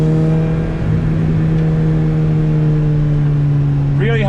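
A Lotus fitted with an upgraded Harrop supercharger pulls hard under acceleration, a loud steady engine drone with sustained whine from close inside the cabin, and a voice starts speaking at the very end.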